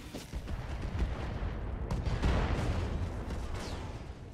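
Mech weapons firing in a RogueTech battle in BattleTech, a continuous dense barrage of booming gunfire and blasts layered together, loud and sustained throughout with no talking.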